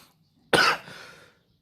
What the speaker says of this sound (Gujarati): થોડીક ઉધરસ